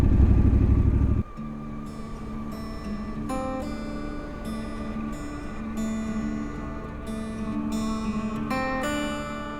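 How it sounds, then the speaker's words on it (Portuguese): A Triumph Scrambler motorcycle rides steadily through a rubber plantation, its engine a low, even drone with a tonal hum, preceded by a brief loud rumble and no talk. "uma sensação super legal é andar de moto no meio do seringal"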